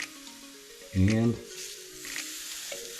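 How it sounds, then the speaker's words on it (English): Pork chops sizzling inside an air fryer, a continuous close hissing sizzle with a short spoken word cutting in over it. "Oh, what a nice sizzle."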